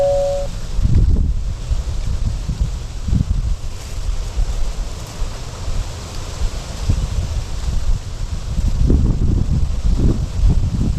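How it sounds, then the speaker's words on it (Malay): Strong wind gusting after a storm at a riverside fishing spot, a continuous loud rushing roar with heavy low buffeting on the microphone that surges near the start and again near the end, with no talk. "ni pun duk angin lagi ni, ribut lagi"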